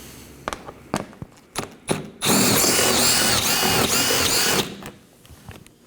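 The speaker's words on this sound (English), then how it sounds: "we can move along to the underside of the bumper to remove our 6 7mm bolts" A power tool spins out the 7mm bolts beneath the bumper of a 2018-2024 Chevrolet Equinox, one loud sustained burst of whirring lasting a couple of seconds, preceded and followed by scattered clicks and knocks of handling.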